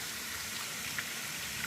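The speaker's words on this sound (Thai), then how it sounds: "อันนี้ฝนตกจริงค่ะเพื่อน" Rain falls at night over a streamside tent campsite: a steady, soft, wide hiss with a couple of brief drop taps near the end. No one speaks.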